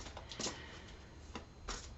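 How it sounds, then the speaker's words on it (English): Angel Oracle cards are shuffled by hand, giving a few soft, quick riffling bursts close to the listener over a quiet background with no speech. "I'm shuffling and going to deal you an Angel Oracle card"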